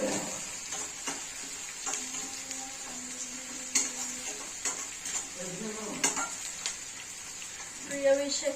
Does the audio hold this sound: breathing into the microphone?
no